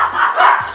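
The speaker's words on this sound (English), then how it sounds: "Even the dogs are excited." A dog barks a couple of times close by in a home kitchen where bacon is being cooked, short sharp yips standing alone without talk.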